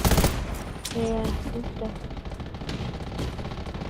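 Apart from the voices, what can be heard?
gunfire in video game Undawn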